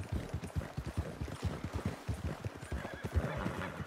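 Rapid clip-clopping hooves at a gallop, steady and close, with a horse whinnying over them, in the video game Red Dead Redemption 2.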